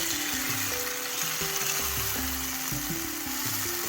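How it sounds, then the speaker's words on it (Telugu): Soft, even bubbling sizzle of eggplant and ginger curry in a pan, quiet and close, with gentle music playing underneath. "కూర అంతాను చూడండి మగ్గుతుంది కదా"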